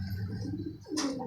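Pigeons from a paired male and female coo in a low, repeated throaty pattern close by, with a brighter flutter or call near the end.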